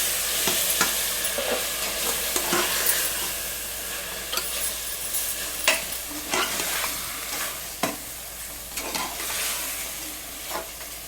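Yogurt, coriander and mint frying in a pan for mutton biryani hiss and sizzle steadily throughout, while a spoon clanks and scrapes in an irregular stirring rhythm close by, with no speech.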